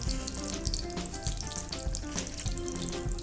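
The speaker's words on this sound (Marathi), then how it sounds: "त्यातच थोडंसं तेल अजून ॲड करून मी भाज्यातच फोडणी देणार आहे. तेल गरम झालं आहे, तर ह्यात आता मोहरी," Mustard seeds crackle and sputter in hot oil while tempering for a whole masoor dal curry, a dense continuous sizzle heard close and alone.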